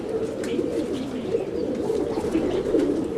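Roller pigeons coo steadily and close up, a dense, continuous rolling murmur from several birds with no voices over it.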